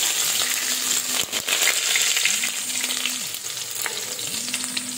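Crushed garlic sizzles in hot oil with mustard seeds, fenugreek and cumin, a steady close frying hiss with occasional stirring and a recurring mechanical hum in the background.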